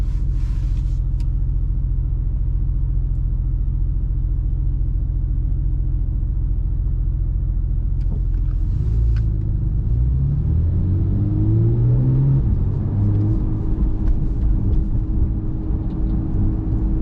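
A Porsche 991.2 GTS engine drones low and steady on a Sunday drive through London, then rises and falls in pitch as the car accelerates through the gears, close and continuous.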